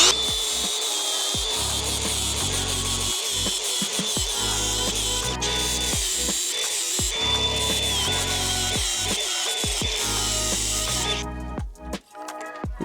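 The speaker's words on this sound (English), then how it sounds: "Let's get grinder." An angle grinder cuts into metal on a Honda C50 motorcycle, giving a loud, continuous harsh grind with a steady high whine for about eleven seconds before it winds down and stops.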